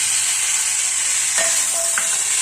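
Fried lentils sizzle loudly in a pan as cumin and ginger paste go in, a continuous bright hiss with a faint clink or two from a utensil, close and without voices.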